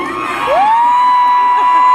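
Live concert audience of Louisiana fans at a show in Atlanta cheering and screaming loudly and continuously, with a sustained high whoop or scream rising and holding over the roar of the crowd.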